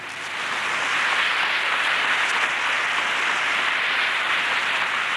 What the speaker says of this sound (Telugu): చప్పట్లు కొట్టండి గట్టిగాను